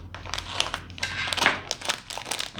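Plastic packaging crinkles and crackles in quick, uneven bursts as handmade resin keycaps with silver foil are unwrapped, close and fairly quiet with no voices.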